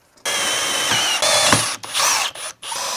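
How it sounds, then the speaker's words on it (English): A power drill boring a hole through a reclaimed barnwood breadboard whines up and runs in several close, loud bursts, with the pitch shifting under load and brief stops between spins. "So I'll drill a hole through here."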